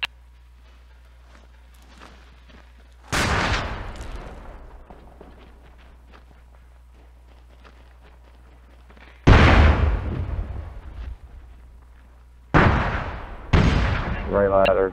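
Explosive detonations in the video game SOCOM Confrontation on the Kasbah map, three loud booming blasts with long rumbling decays, the last followed by a second burst, separated by quiet stretches of low hum.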